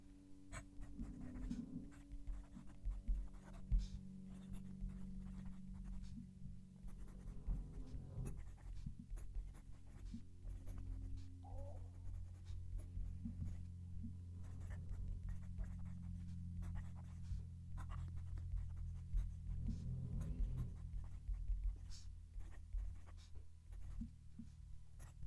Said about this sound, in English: We'll move the mic and write the sentence.